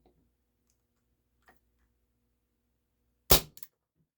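A Walther P38 CO2 BB pistol fires a single steel BB: one sharp, loud pop followed by a quick double click, standing alone against near silence after a couple of faint earlier taps.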